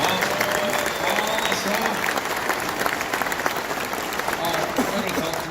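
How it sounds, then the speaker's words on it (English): Audience at a men's meeting claps in a big, steady round of applause that continues throughout, with voices mixed in beneath the clapping. "give Bob a big round of applause."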